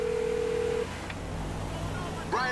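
A phone in GTA V dials out on speakerphone, a clear sustained tone followed by quieter background sound and a short burst of dialing beeps at the end, with no voice over it.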